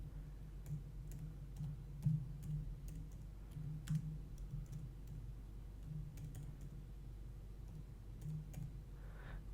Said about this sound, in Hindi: इसके अंदर यहाँ पे हम कुछ टाइप कर देते हैं।